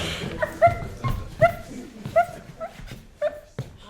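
A nearby dog gives four or five short, high whimpering yelps at roughly even intervals, mixed with soft huffs and rustling between them.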